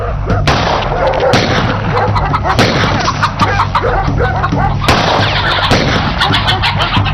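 Gunfire in a Persian-dubbed drama scene: repeated sharp cracks and bursts punch through a loud, dense rumbling background over about seven seconds, with no clear talk.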